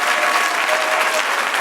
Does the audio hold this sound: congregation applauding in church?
yes